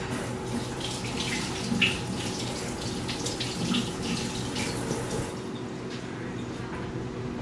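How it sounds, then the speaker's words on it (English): Hands rinsed under a running kitchen tap, a steady close splashing stream of water that continues for several seconds with no talking. "once I rinse my hands off"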